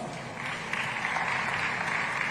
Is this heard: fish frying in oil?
no